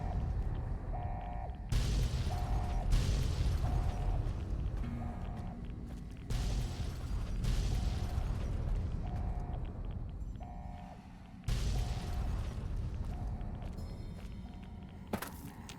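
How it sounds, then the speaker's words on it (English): Explosions in Fallout: New Vegas's Lonesome Road DLC, recurring deep booming blasts every few seconds over a continuous rumbling background, with faint repeating tonal beeps. "What the hell is going on with these explosions?"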